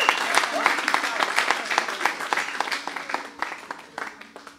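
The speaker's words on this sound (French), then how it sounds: "Acclamez Dieu très fort. Clap for the Lord." A church congregation claps hard and fast in dense, continuous applause that slowly thins toward the end, with voices present beneath the clapping.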